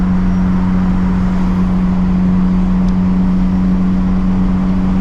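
A built Nissan S15 running a boosted tune is driven from inside the cabin, its engine droning loud and steady with a strong low hum that holds the same pitch throughout, with no voices present.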